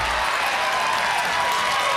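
Steady applause from the crowd around a World Poker Tour final table, a dense continuous wash of clapping throughout at an even level.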